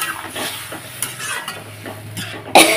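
Water is splashed into a pan of frying ground black cumin while cooking taro stolons, producing close, crackling sizzle and scraping stirring strokes, then a loud hissing burst near the end as the water hits the hot oil.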